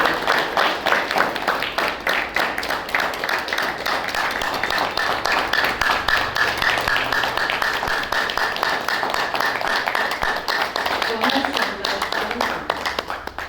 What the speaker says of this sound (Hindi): तो एक बार जोरदार तालियां हमारे स्मर्त